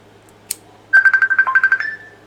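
A phone ringtone, after a brief click, breaks into a rapid trill of about a dozen quick electronic pulses on a steady tone, loud and close, then stops.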